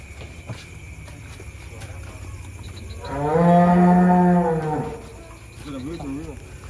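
A large cow being loaded onto a truck at night gives one long, deep, drawn-out moo over a steady outdoor background of insects and light noise, with a softer fainter call afterward.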